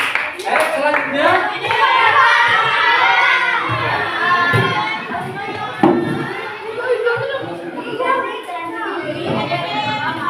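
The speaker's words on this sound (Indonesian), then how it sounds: "tepuk tangan untuk kelompok" A classroom audience of children claps and shouts together for a group, a busy mix of applause and excited voices close by, with an adult voice talking through it.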